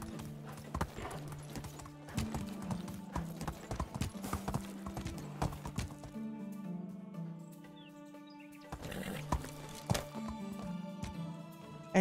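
Horse hooves clip-clop at a steady walking rhythm in the medieval village life game Medieval Dynasty, with brief pauses, a short neigh and faint birdsong in the background.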